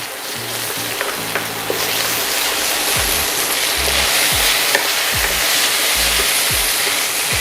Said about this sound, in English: I'm going to go in with 2 tablespoons of tomato paste. And I'm going to cook that off.